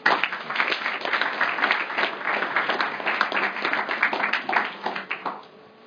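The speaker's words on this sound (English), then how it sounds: "our next speaker, George Galloway MP, give him a round of applause." A room full of people applauds steadily, with dense, lively clapping that carries on for several seconds before thinning out and stopping.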